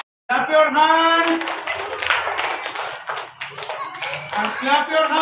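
Children clap their hands in a quick, scattered patter, heard faintly beneath a loud voice speaking over it.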